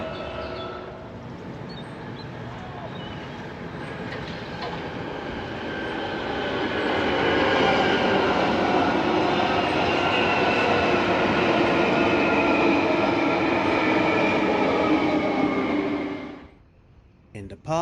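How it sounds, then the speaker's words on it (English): Jubilee Line 1996 stock London Underground trains run between Stanmore and Canons Park, a continuous loud rumble and rail roar that swells midway and then cuts off near the end. "And look at the trains passing by."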